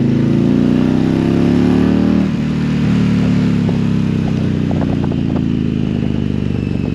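A 2022 Indian Challenger Dark Horse motorcycle pulls hard on a test ride, its loud engine rising in pitch, easing briefly, then climbing again up close with wind rush.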